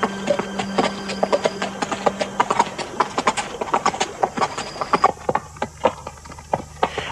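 Several horses clip-clop steadily along a path near a creek on a long ride home, hoofbeats close and distinct in an irregular walking rhythm, with no talking.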